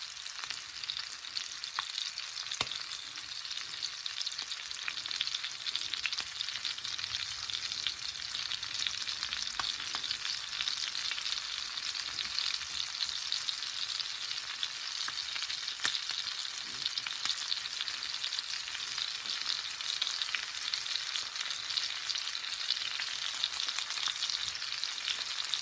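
Honey garlic lamb chops frying in a pan, a bright continuous sizzle heard close and steady for the whole stretch with occasional crackling spits.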